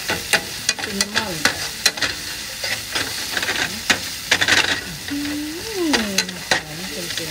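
Chicken breast, mushroom, kale and herbs stir-fried in a hot pan, bursts of sizzling and hissing steam broken by sharp spatula clacks and scrapes in an uneven rhythm, close and loud, no voices.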